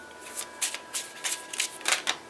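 A deck of tarot cards being shuffled in several quick riffling bursts, crisp and close, with short pauses between each pass.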